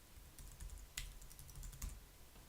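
Quick, light keystrokes on a computer keyboard while entering text in a code editor, a soft irregular patter with a few sharper clicks, close and quiet with no talking.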